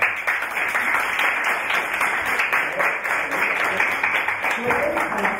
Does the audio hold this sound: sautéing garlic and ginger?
no